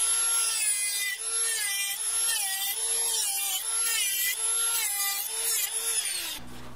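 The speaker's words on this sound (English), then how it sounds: "I've got my Dremel tool ready and my glasses, and we're just going to cut off that 2-inch section." A handheld Dremel rotary tool cuts through mother of pearl tube stock held in a vise, giving a steady high whine that dips and rises in pitch as the cutting load changes, before it winds down at the end.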